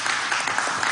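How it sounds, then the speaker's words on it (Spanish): Audience applause filling a presidential broadcast hall, the Salón Sol del Perú, as arriving beneficiaries are welcomed; steady, dense clapping throughout, with no voices on top. "Vamos a dar un aplauso a estos camaradas."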